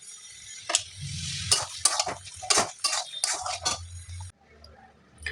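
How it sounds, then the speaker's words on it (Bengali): Olives for a pickle are stirred as they fry in a pan, with a steady sizzle under repeated scraping and clinking strokes of a metal spoon, close up, ending in a quieter stretch of low frying. "তো একটা সুন্দর কালার না আসা পর্যন্ত এই জলপাইটাকে আমাদের নাড়তে হবে"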